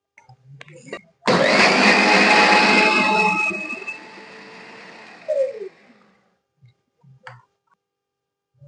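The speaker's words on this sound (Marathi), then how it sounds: "थोडं पाणी टाकून हे मिक्सरला दळून घेते मी आता" A mixer grinder blending curd, gram flour and water roars to life, whirs loudly for a few seconds, then winds down, with faint clicks and bits of quiet talk around it.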